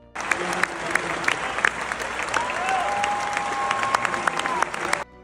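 A tennis crowd breaks into loud, sustained applause after strong serves, dense clapping holding steady for several seconds with faint cheers mixed in, before cutting off abruptly.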